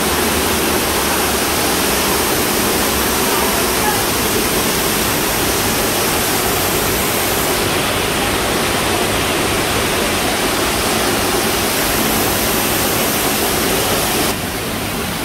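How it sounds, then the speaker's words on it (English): A waterfall at Watkins Glen State Park, New York, roars as a steady, loud, broadband rush, heard continuously while passing by on a motorcycle road trip. "Right now we're going through the waterfall."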